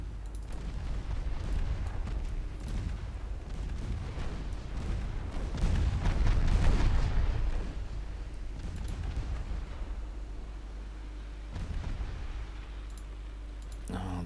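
Heavy naval guns boom in Ultimate Admiral Dreadnoughts as warship main batteries fire on an enemy destroyer, a few deep blasts with rumbling tails over a low continuous engine drone and scattered clicks.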